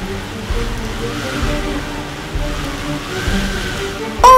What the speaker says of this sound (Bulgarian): Сега вали повече!